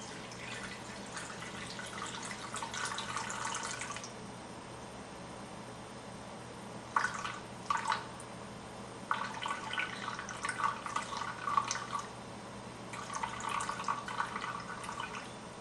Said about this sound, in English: So I'm going to slowly pour that into the bowl